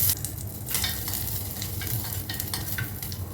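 Curry leaves, chana dal and cashews fry in oil with a close, crackling sizzle, broken by repeated scraping strokes of a spoon stirring the pan.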